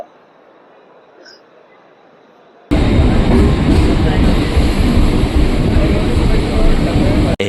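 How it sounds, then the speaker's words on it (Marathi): A train arrives at a station, heard as a loud, steady roar of rumbling carriages that cuts in suddenly after a few quiet seconds and continues up close. "आता आली बघा ट्रेन."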